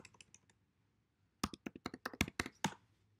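A command is typed on a computer keyboard: a few light taps, a short pause, then a quick run of sharp, close keystrokes in an otherwise quiet room.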